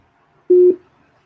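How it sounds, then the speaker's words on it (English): A single steady busy-signal tone from a dropped WhatsApp call, sounding once for about a quarter second, fairly loud and clear with nothing else around it. "I answered their call on WhatsApp and the call dropped."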